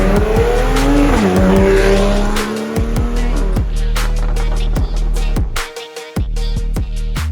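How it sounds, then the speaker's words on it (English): A Porsche 911 Carrera S fitted with a Soul Performance exhaust revs and accelerates loudly and close by, its engine pitch climbing through repeated gear changes with a brief drop-off near the end. "This is the Soul Performance Porsche exhaust."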